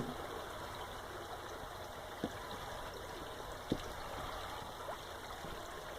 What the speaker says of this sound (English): Elton Brook soon enters a culvert.